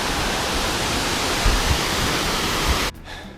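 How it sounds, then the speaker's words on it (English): Steady, loud rushing roar of a waterfall along the John Muir Trail, a dense continuous wash of water close by that cuts off abruptly near the end. "Just thought I'd stop and show you the waterfall."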